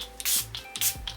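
A Catrice Illuminating Prime and Fine Dewy Glow setting spray bottle is shaken up close, giving two quick rattling, swishing strokes in an even back-and-forth rhythm.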